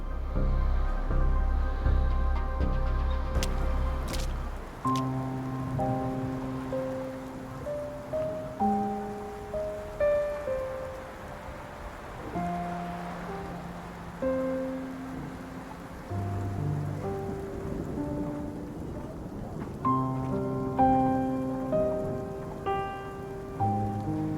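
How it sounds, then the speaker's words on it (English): Rain falls in a steady hiss beneath a melodic game score, with a heavy low rumble like thunder during the first few seconds. "Why are you standing here in the rain?"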